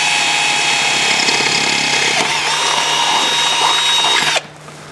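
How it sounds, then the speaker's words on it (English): A power drill boring a hole in a four-wheel-drive vehicle during a bush-mechanics fix, a loud, close, steady whine held for over four seconds before cutting off abruptly. "it's going to poke out just inside where I can get at it as soon as I drill a hole"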